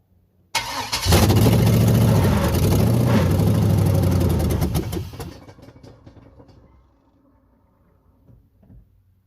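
Close, loud engine start on a truck with an LS engine swap: a brief crank catches into a roaring run for about four seconds, then cuts off and fades into quiet rattles and ticking.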